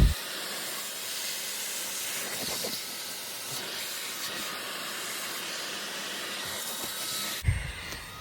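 A steady, loud hissing suction runs throughout, a wet-vac pulling water out of the fabric seats of a 2016 Audi A3, with a few brief clunks and a sharp knock near the end.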